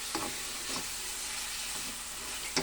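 Chicken sizzles softly in a pan as its natural oil renders out, the first step of a buttered paella with honey and salted egg; a steady faint hiss carries a few brief stirring scrapes, with no talking.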